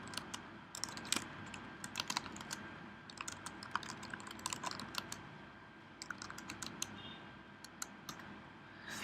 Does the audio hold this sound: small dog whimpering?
no